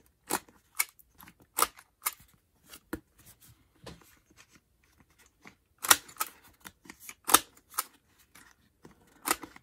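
Rounding the corners of a paper journal card with a corner punch: a string of short, sharp clicks and snips at irregular intervals, close and fairly quiet, with no talking.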